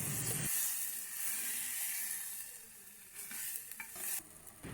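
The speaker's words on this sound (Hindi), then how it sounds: "इसको आपने अच्छी तरीके से भून लेना है और मसाला तैयार कर लेना है।" Chicken liver masala frying in a clay pot, a steady loud sizzle with hiss and stirring scrapes that fade and return, with no voice over it.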